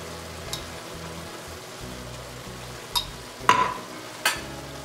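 Garlic cooks in a pan with browned meat and softened vegetables, a low steady sizzle punctuated by a few sharp spoon clacks and stirring scrapes, close by.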